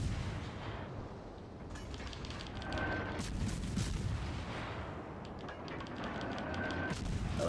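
Naval gunfire from the World of Warships Legends video game, a sustained rumble of heavy cannon blasts and booming salvos rolling on continuously at moderate loudness, with no voices.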